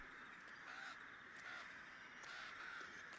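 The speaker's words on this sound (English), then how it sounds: "The sound you hear is spectral dead birds." Crows cawing repeatedly over a steady hiss of background noise, used as a spectral dead-birds sound effect during a Dungeons & Dragons Curse of Strahd tabletop session; several harsh caws come in an uneven rhythm with no talking.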